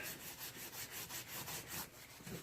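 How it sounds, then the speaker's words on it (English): Light, quick rubbing strokes across painted Mandalorian armor, a steady run of soft, close scuffing sweeps with no talking. "Just rub lightly on it."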